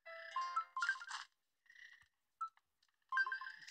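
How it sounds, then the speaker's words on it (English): Chirpy, cartoonish notification jingle from the Animal Crossing Pocket Camp game, a few short bright melodic bursts separated by brief gaps, clean and synthetic with no talking. "He got a notification."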